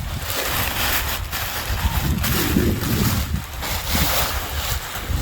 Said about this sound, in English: I'm going to do a quick batch since it's windy anyway